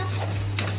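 Potatoes with salt and turmeric frying in a pan, a soft steady sizzle with a quick stirring scrape, close and quiet over a low hum.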